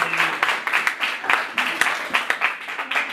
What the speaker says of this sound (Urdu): آئے زوردار تالیاں بجائے